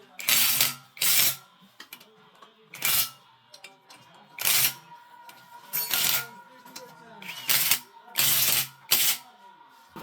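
A hand ratchet clicks in quick bursts while bolts are tightened on a Bajaj Discover 100cc motorcycle engine during repair, about nine sharp, close rattling runs separated by brief pauses, with quiet workshop sounds in between.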